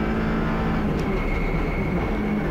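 Audi RS3 LMS touring race car on a lap of Bahrain International Circuit, a constant loud engine drone and whine heard from onboard, steady throughout with no speech.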